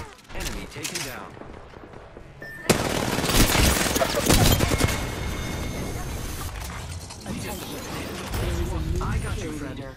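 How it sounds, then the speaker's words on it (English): Enemy gunfire in Pathfinder, a shooter game, starts as a sudden loud fusillade with rapid rattling bursts. The shots run on under game effects and voices. "The enemies are shooting."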